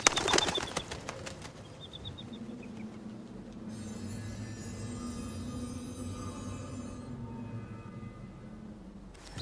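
A bird's wings flap in a quick burst at the start, followed by a low steady rumble and a sustained tonal layer that continue to the end of the scene in a fantasy film.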